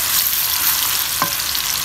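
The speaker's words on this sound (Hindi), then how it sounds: "प्याज की अच्छी तरह से भुनाई करेंगे" Onions frying in a pan for Lahori chana masala, a close, continuous crackling sizzle with a brief stir near the middle.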